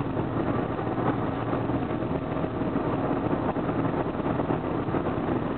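Wind roars constantly around a car cruising on a Miami highway, a steady broadband rush layered over a low engine hum, with no one speaking.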